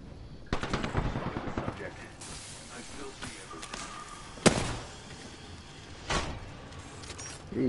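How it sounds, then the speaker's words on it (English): Bursts of automatic gunfire in the battle royale game Apex Legends, rapid rattling volleys early on followed by scattered single shots and a sharp loud report, with faint game effects in the background. "Opening fire."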